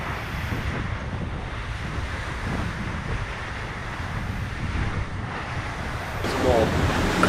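Strong wind roars across the microphone over broad ocean wave wash aboard a racing sailboat in the Volvo Ocean Race, heading toward Cape Horn, a steady loud rush that swells in the final second.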